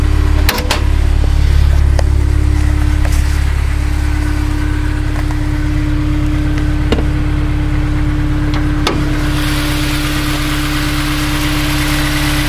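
A 2001 Honda S2000 engine idling under an open hood, a steady, even hum close by with a few faint clicks and knocks, fairly quiet and without talk.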